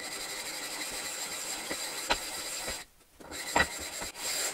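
A flat water whetstone is rubbed back and forth against another stone under its own weight, making a steady close gritty scraping with a few sharper clicks and a brief pause.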